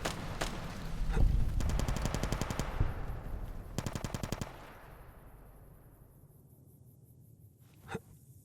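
A Tommy gun fires in Fallout New Vegas in two rapid automatic bursts, loud and close, followed by a fading tail and a single sharp report.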